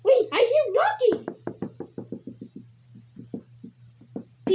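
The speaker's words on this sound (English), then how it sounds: "Wait, I hear knocking!" Knocking: a run of about a dozen quick, even knocks after a short burst of talking, moderately loud and close, slowing and thinning out before another voice starts at the end.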